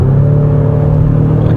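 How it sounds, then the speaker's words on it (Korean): A loud, steady virtual engine drone hums from inside a 2021 Renault Talisman in sport mode at its highest setting, deep and even with a faint rise near the end, no voices. "스포츠 모드에서는 그 가상 엔진 사운드가"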